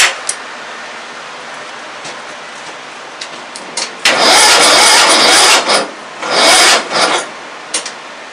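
A car engine on a bad battery, its starter grinding in two loud raspy bursts that fail to turn the engine over, between quieter clicks and hiss, with no talk.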